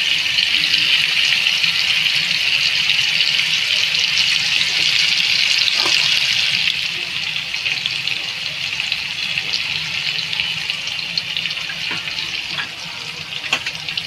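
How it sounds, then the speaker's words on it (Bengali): Water pours into a bowl while mustard paste is rinsed out during cooking, giving a steady splashing stream that drops in level about halfway through, then continues more softly. "আমি এই বাটিটা ধুয়ে সামান্য একটু জল দিয়ে দেবো শুধু"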